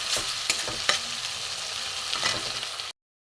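Spice paste of coriander, cumin, chilli and turmeric sautéing in hot oil, a constant sizzle broken by several sharp scraping stirs of a spatula before it cuts off abruptly.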